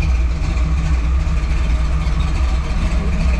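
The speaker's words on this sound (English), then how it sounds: "Does have Flowmaster exhaust systems on it," A restored 1979 Jeep CJ-5 Renegade V8 idles through Flowmaster dual exhaust, a steady, loud, deep rumble with a slightly uneven lope, close up and with no talk.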